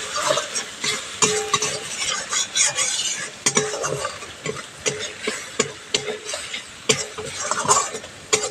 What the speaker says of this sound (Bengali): মশলাটা একটু হালকা আঁচে কষিয়ে নিতে হবে